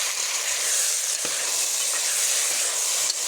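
A vegetable fry hisses steadily in a pan as its remaining water cooks off, with a constant close sizzle and a couple of soft knocks from stirring.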